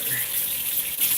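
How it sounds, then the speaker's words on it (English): Hot water running steadily from a kitchen tap into a sink during dishwashing, a continuous close hissing gush that fills the whole short stretch without pause. "We clean this with only hot water."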